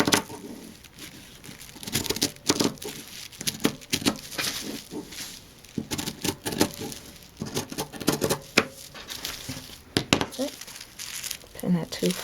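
Scissors cut bag fabric pieces along a paper sewing pattern, producing repeated crinkling of paper and snipping rustles in uneven bursts, close up, with occasional voice in the background.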